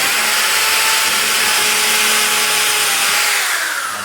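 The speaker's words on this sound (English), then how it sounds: "I'm basically just drilling through the keel piece, and then we'll throw a screw in there and hold it" A power drill bores through a wooden keel piece for a skiff build, a loud continuous whine held close and steady before easing off at the end.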